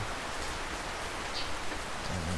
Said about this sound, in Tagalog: So, wala pa rin tigil yung ulan